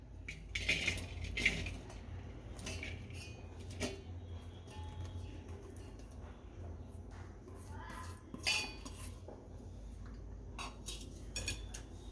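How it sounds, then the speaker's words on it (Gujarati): Sweet corn kernels tumble into a pot in a few bursts of light rattling and clinking, then a quieter stretch of small knocks and scrapes in a kitchen. "એમાં મકાઈના દાણા નાખશું."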